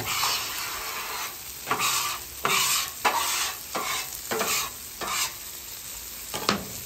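Country fried steak frying in a pan of oil gives a steady close sizzle, broken by several sharp scraping pushes as the crusted steak is moved across the pan.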